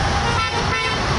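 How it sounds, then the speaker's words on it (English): Passing cars and buses on a street in Bismarck sound their horns, a loud sustained honk close by over roadway noise. "As passerbys honked,"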